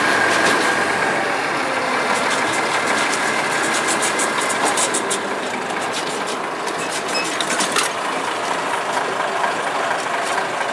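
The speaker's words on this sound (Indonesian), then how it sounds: "Lokomotif nomor 7 ini." Locomotive number 7 running along a track on a turning triangle: a steady, loud, broad rumbling roar with faint metallic ticks, continuous throughout and with no voices.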